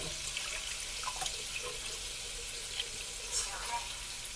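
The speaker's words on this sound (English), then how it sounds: "Now I'm going to pour this sauce in here." Sauce pours into a pot of meatballs for spaghetti, a steady wet hiss and trickle running continuously and fairly close throughout.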